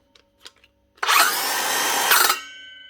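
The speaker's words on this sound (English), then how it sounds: "But she's starting and stopping with a wee bit of a grinding noise." A Bosch cordless saw under repair runs for about a second and a half, a loud steady whine with a rough grinding edge, starting up abruptly and then stopping, after a few small knocks.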